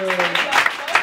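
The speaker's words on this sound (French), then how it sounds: "Ça s'applaudit les gens qui viennent juste pour ça." Audience clapping in a French-speaking crowd, a brief uneven burst of applause heard close, with a sustained tone at the start and loud claps through the short stretch.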